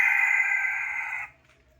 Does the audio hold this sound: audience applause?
no